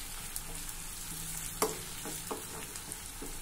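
Turmeric and curry leaves sizzle in hot tempering oil, a steady close fizz with a few sharp crackling pops, no voices.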